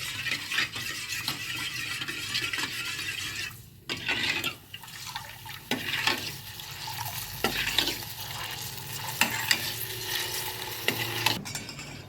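A spoon stirs ghee and powdered sugar in a heated pan, scraping and swishing steadily with a soft sizzle underneath. The sound stays close and moderately loud, with no talking.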